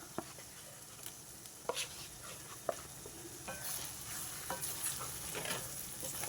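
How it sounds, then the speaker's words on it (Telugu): Masala paste for mushroom curry fries in a pan with a soft continuous sizzle, punctuated by a few sharp stirring clicks and scrapes of a spoon against the pan; fairly quiet and close. "దీన్ని బాగా వేగనివ్వాలి మసాలా అంతా ఉడకాలి"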